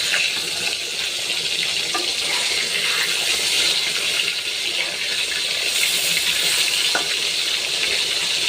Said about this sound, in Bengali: মাছটা আমি অর্ধ ঘন্টা করে ভেজে নিচ্ছি